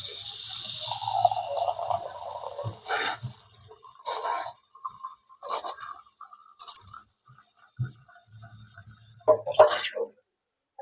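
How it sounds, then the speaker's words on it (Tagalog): Water from a tap pours over oyster mushrooms fresh from the farm in a sink for washing, with a steady rush at first and then intermittent splashing and handling noises. "Lalagyan na natin ng tubig."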